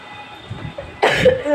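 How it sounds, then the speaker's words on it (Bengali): A woman coughs once, a short harsh burst up close in a home kitchen after a quiet moment, with faint background noise beforehand. "কাশি এখনো আমার হচ্ছে"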